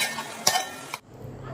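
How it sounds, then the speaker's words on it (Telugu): Masala paste stirred into chicken frying in oil, a soft sizzle with a couple of sharp clinks of a spoon against the pan, close and brief, then a sudden drop to near quiet. "అప్పుడు మనం చేసి పెట్టుకున్న ఈ మసాలా పేస్ట్ మొత్తం దీంట్లో మిక్స్ చేసుకోవాలి"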